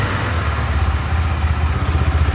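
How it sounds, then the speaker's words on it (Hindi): Exhaust of a 2023 KTM 390 Duke motorcycle idling up close, a steady loud low throb with a fast uneven pulse and no voices over it. "ये एग्जॉस्ट साउंड रहेगा इसका कुछ"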